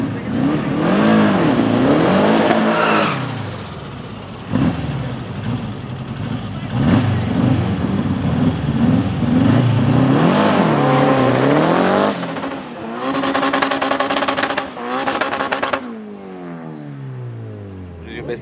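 Drag race car at the Thaba'Nchu airfield drag strip in Bloemfontein, loud engine revving in repeated bursts before launching and accelerating hard away, then fading; people talk in between.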